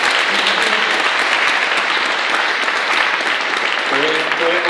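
An audience at a talk event applauds a speaker, a loud, sustained, dense clapping throughout, with a voice briefly audible over it near the end.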